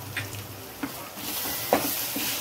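Ground spices such as turmeric, chili, garam masala, coriander and cumin powder fry in oil in a pan, a soft continuous sizzle with a few faint scraping stirs from a utensil and no talking.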